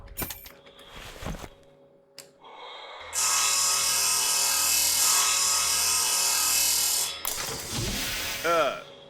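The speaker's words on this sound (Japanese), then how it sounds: "はあ、ここで回転ドリル使うんや。" A rotating drill in the video game Breath Edge whirs loudly as a sustained mechanical grinding for several seconds, preceded by brief clanks and followed by a sharp mechanical clatter.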